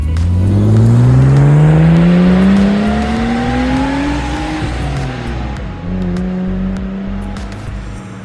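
A Nissan R32 with an RB20 engine drives on the road, its engine loud and close, revving up through the gears with a rising whine, then settling and rising again after a shift.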